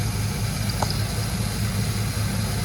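The engine of a 2002 Land Rover Discovery II with 103,000 miles idles steadily and quietly, a low, even rumble with a faint rhythmic pulse throughout and no voices.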